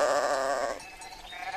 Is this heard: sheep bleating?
yes